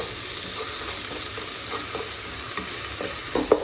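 Ginger-garlic paste being sautéed in a pan for a Kerala duck curry, a steady close sizzle with scraping stir strokes and a few sharper clinks near the end.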